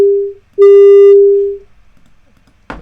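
Pure sine wave tones generated in Pure Data: a short clean tone, a brief pause, then a longer steady tone that fades over about a second, followed by silence and a faint click at the end.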